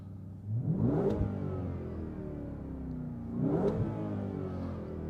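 A supercharged Ford F-150 Raptor R pickup engine revs quickly twice, each sweep climbing fast then falling back, close and loud with a steady idle rumble between bursts.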